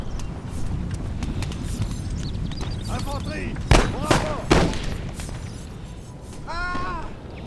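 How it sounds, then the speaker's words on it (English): Infantry musket volleys crack out in the Napoleon Total War battle game, with a few sharp reports and scattered battle noise under a voice talking throughout. "Imperius is also shooting the hill right now"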